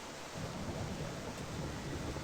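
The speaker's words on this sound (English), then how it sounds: "Oh, and it's raining." Rain and rolling thunder in the WolfQuest wolf video game, a low continuous rumble with steady rainfall hiss, fairly quiet.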